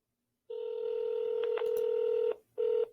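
A call goes out through the Vonage phone system: a steady ringback tone sounds for nearly two seconds, breaks briefly, then starts again, clean and close with no talking.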